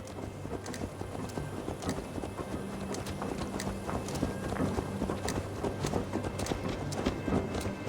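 Horse hooves clip-clopping in the video game Assassin's Creed Valhalla, a steady walking rhythm of close, distinct hoofbeats over a low ambient game background.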